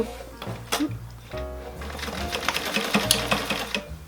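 A sewing machine runs steadily as it stitches corset boning channels, its close, continuous mechanical whirr and rapid needle clatter filling the whole stretch.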